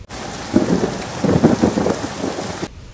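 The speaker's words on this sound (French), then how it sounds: "je crois que la pluie arrive." Rain falls outdoors over a backyard vegetable garden in July, a steady broadband hiss with low thunder rumbles swelling through the middle and easing off near the end.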